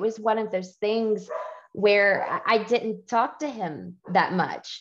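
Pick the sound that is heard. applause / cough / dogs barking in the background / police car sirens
dogs barking in the background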